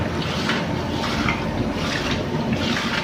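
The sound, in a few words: water poured over rice while washing it for biryani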